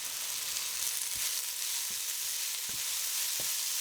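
Bitter gourd subzi with tamarind paste and jaggery sizzles loudly and steadily in a pan, broken by several soft knocks as it is stirred.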